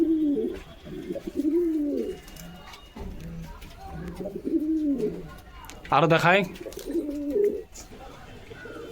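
Pigeons being released by hand give soft, rolling coos alongside someone talking over them, with a brief burst of wing flapping partway through.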